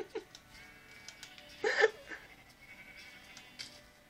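A single short sheep bleat from a Minecraft black sheep rises briefly above a quiet, murmuring background.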